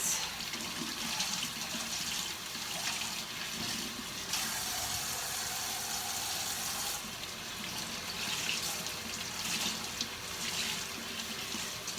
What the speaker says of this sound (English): The water's coming out clear.